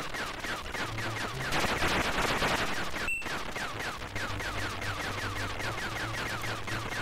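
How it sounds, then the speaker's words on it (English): Continuous rapid-fire shooting from a player ship blasting alien swarms in Xenon 2 Megablast on the Atari ST, a steady stream of chiptune-style shot bursts layered over game music with a brief dropout midway. "I'm trying to pick an area where I can shoot the swarms with a single stream of bullets."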